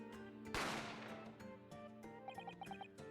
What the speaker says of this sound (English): A gunshot rang out, so I hurried out to the dining area to see what had happened.